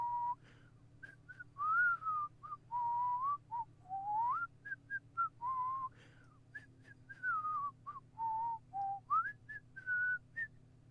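A person whistles a lively melody of short and sustained notes with gliding pitch bends, the whistle clear and close over a low steady hum in the background.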